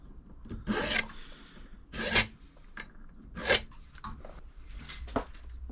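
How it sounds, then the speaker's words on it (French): A hand file rasps across a metal motorcycle part in a few separate strokes, close and fairly quiet, with short pauses between the scrapes. "avec quelques coups de lime, bah, on va le rendre propre"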